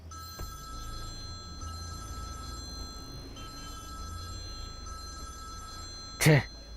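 A telephone rings with a sustained electronic tone over a low background hum, ending in a short loud burst.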